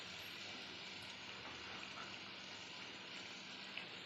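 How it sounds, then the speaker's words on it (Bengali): Cumin powder, turmeric and chilli powder frying in a pan for Bengali ghugni, a faint continuous sizzle and hiss with no talking. "মশলাটা আমি ভালো করে কষিয়ে নেব।"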